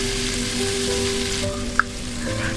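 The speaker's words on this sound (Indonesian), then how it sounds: "Lanjut ini kita tumis hingga semuanya matang dan layu." Sliced chilies, bird's eye chilies and tomatoes sauté in a hot pan, a steady close sizzle and crackle with a single small pop near the end and no voices.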